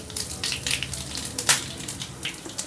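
Hot oil for the tempering of gongura pappu crackles and sizzles as asafoetida goes in, a close, busy spatter with sharper pops throughout.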